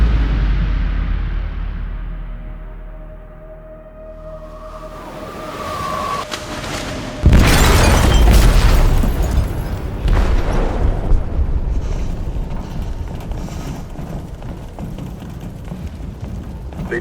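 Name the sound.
explosion in a ship's hold, from the video game Detroit: Become Human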